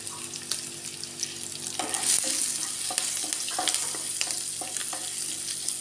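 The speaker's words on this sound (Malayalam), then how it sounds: "ഉള്ളിയും മുളകും വേപ്പിലയും നല്ലപോലെ മൂത്ത് വരട്ടെ" Crushed shallots, garlic, green chili and curry leaves fry in oil for a dal tempering in a village kitchen, a steady sizzle broken by scraping stirs and clinks of the spoon against the pan.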